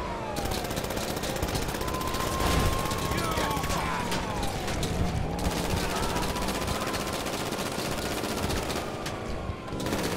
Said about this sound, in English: Can you stop shooting him, please?